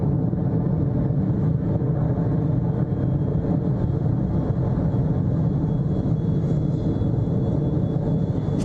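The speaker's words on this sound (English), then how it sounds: "Liftoff confirmed, and Kakushin is rising with Electron from Launch Complex 1" A Rocket Lab Electron rocket lifts off from Launch Complex 1 with a steady, dense, low roar that holds at an even loud level throughout.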